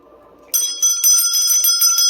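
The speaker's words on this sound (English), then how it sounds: "There's your bell." Small bell ringing loudly and close, a bright, rapid run of repeated dings that starts abruptly after a moment of near silence and continues to the end.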